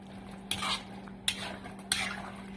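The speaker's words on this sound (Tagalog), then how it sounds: "Haluin natin kakityan ha." Pork menudo stirred in a pot: three scraping sweeps of a spoon through the thick stew, each with a light clink, close up over a faint low hum.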